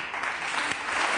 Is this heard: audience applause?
yes